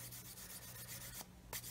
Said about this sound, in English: You come along and just sand that out,